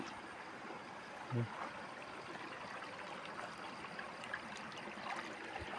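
Steady rushing of water flowing through a breach in a rice paddy bank, like a small stream pouring through a gap, continuous throughout with a brief voice-like sound near the start.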